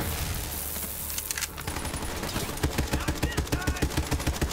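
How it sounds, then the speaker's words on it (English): Sustained gunfire in the video game Borderlands 3, a dense barrage that settles into a steady rapid rhythm of shots, loud and continuous, with faint talk underneath. "I'm getting shot at in the face."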